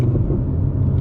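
Engine of a 2017 Vorsteiner Audi R8 revving in neutral, a deep steady rumble that holds loud and even for a brief moment.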